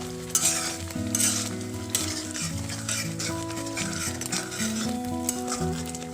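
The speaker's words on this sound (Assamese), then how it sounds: "এইখিনি এনেদৰে মই 10 মিনিট লৰায়ে আছোঁ" A cooking mixture being stirred in a pan on a gas stove, steady sizzling and bubbling with scraping spoon strokes against the pan throughout, close and continuous.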